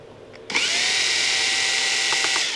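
A power screwdriver kicks in after a brief quiet moment and whirs steadily at close range while backing screws out of an old 1995 Amada Astro press brake controller computer, with a few faint clicks near the end.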